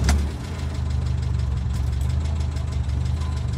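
A 1976 Reliant with a sports exhaust catches just after a key turn and settles straight into a close, steady idle with an even low throb and slight knocking beat.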